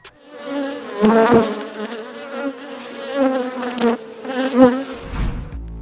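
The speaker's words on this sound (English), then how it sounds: "Wasps will attack a beehive if they consider the colonies insufficiently strong to justify their efforts." Wasps and bumblebees buzz loudly and close while fighting at a beehive, the droning wingbeats swelling and fading in repeated bursts with sharp clicks between them.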